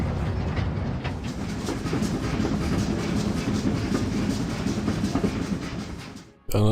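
A train rolls along in WDS Poland 39, a steady rumbling clatter of wheels on rails with faint rhythmic clicks. It holds constant and loud, then drops away abruptly near the end.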